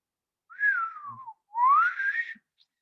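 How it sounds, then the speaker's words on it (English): Two clear bottlenose dolphin signature whistles off North Carolina, the first gliding downward and the second sweeping upward, each under a second long and heard alone against near silence. "One dolphin will emit the same whistle to identify itself through most or all of its life."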